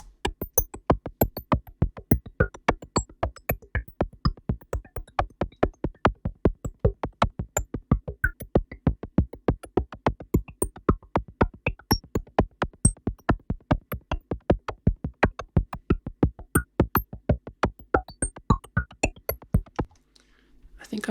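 Glitch synth pattern running in SuperCollider as a Risset rhythm, a steady stream of sharp clicky pulses with scattered high sparkles, fairly loud and continuous for about twenty seconds before cutting off.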